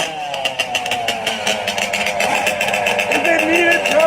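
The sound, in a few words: Yamaha Banshee ATV engine at drag race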